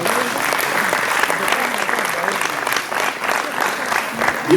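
A wedding congregation claps together in sustained, dense applause throughout, with some voices mixed into the crowd noise.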